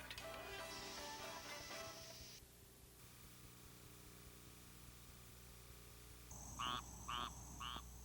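Frogs and toads call at night in a South Florida residential area, three loud, buzzy croaking pulses in a steady rhythm arriving late over a hissy, droning background.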